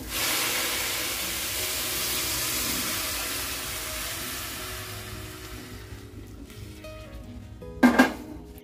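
Hot water hits a pan of rice frying in oil, giving a loud, steady sizzling hiss that slowly fades, then a short clatter of utensil against the pan near the end.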